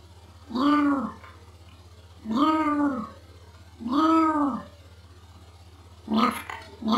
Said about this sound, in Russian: Ладно, мяукнуть.